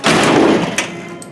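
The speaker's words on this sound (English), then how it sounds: "it sounds loud because you got this flopping around, hitting everything, and it's a hollow door and everything's banging around in there" The hollow door of a chopped 1950 Ford shoebox slams shut once, close and loud, with a rattling bang from loose parts inside the door that fades quickly.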